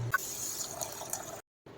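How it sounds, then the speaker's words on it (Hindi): Millet (bajra) being washed in water, a soft, close swishing and trickling of water with a brief gap of silence near the end. "बाजरे को हम पहले धो लेते हैं।"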